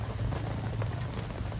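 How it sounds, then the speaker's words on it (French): Steady rain patters down outdoors at a motocross track in Saint-Mamet-la-Salvetat, a dense, even hiss of drops with no voices. "Et il pleut, mais ça va le faire."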